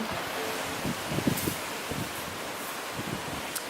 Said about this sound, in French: Aujourd'hui, il y a au taquet de vent.